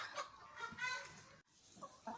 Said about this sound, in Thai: นี่ค่ะ จะเป็นไก่ไข่นะคะ